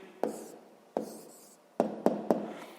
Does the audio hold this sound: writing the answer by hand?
yes